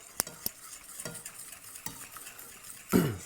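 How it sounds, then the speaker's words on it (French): A utensil stirs egg yolk into cooled melted chocolate in a bowl, giving soft scraping strokes and a couple of light taps against the bowl, close and quiet, ending in a firmer swirl. "Puis je mélange."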